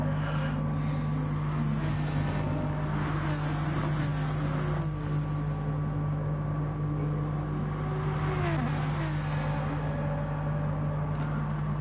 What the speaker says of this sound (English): Filthy's car sounds like it's struggling for rubber already.